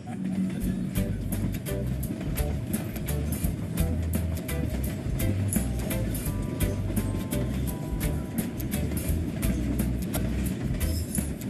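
Steady rumble of a passenger train running on rails at high altitude in Argentina, heard from inside the carriage with continuous low clatter and rhythmic wheel knocks throughout, with people talking faintly in the background.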